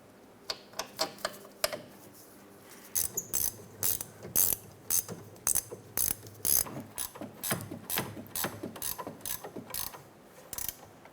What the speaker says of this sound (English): Install the caliper bracket bolts.